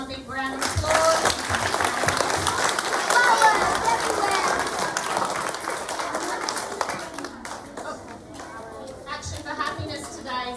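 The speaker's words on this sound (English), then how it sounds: "Superstars, give them one big round of applause." A school assembly crowd of pupils claps steadily and densely for about ten seconds, with voices and chatter mixed in and some scattered cheering.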